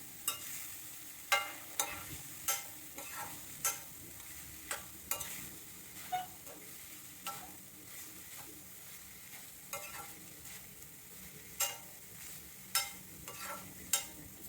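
Coconut and flattened rice fry in a pan as a spoon scrapes through them roughly once a second, each stir a crisp scrape over a steady low sizzle, with no talk.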